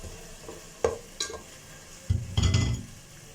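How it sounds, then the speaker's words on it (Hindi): Chicken wings browning in a pan for biryani: faint background sizzle, a few sharp clinks of a spoon stirring against the pan, then a louder burst of frying as the pieces are turned, with no talking. "और इसकी 3 से 4 मिनट जो है वो भुनाई कर लेंगे।"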